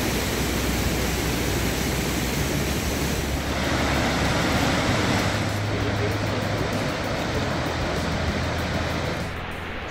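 Gullfoss waterfall in Iceland roars as a dense, unbroken wash of falling water, loud and steady throughout, easing slightly at the very end.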